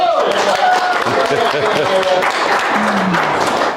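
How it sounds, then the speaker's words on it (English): A church congregation gives a welcoming round of applause during a morning service, steady clapping throughout with speech from the front carrying over it. "Round of welcoming applause for yourselves being here this morning."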